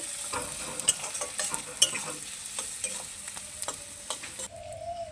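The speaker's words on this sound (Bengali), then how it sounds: "এখন নাড়াচাড়া করে ভেজে নেব। পেঁয়াজটাকে লাল লাল করে ভেজে নেব।" Onions frying in oil while being stirred until reddish brown, a steady close sizzle broken by regular scrapes and knocks of a spoon against the pan, with no talk.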